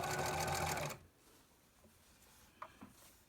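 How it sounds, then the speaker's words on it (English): A home sewing machine stitching a fitted fabric face mask around the pocket opening: a loud, steady whir for about a second, then it stops, leaving quiet handling noises and a couple of faint clicks. "And we're just going to start stitching"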